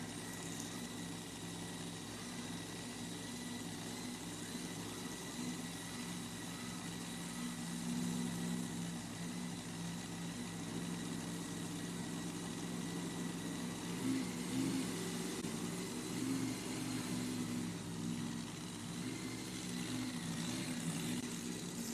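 A pulling tractor runs through a pull at an evening session of the Elkhart County 4-H Fair in Goshen, Indiana. A steady, droning engine roar holds for about twenty seconds at a distance, with faint surges and no talk.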